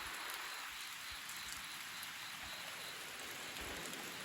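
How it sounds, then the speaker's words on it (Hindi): Steady rain falls in a village beside Jim Corbett National Park, a constant close hiss of drops on surfaces lasting throughout with no talking. "जैसे कि बरसात हो रही है ना"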